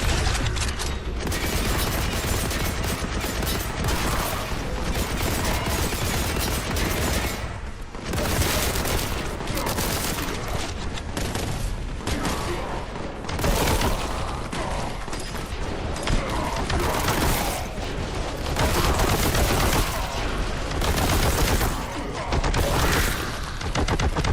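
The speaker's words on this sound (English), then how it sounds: "The heavy bolter is basically not a light machine gun, more like a heavy machine gun" Continuous dense heavy bolter machine gun fire from the shooter Warhammer 40,000: Boltgun, loud and sustained with booming impacts throughout, briefly dipping before resuming.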